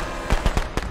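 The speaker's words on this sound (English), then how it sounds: "Yeah, firecracker, I stuck him." A firecracker set off in the video game Friday the 13th: The Game crackles in a quick series of sharp, loud pops over a rumbling background.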